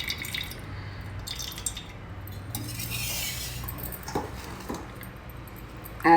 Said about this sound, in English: I am just draining out this water.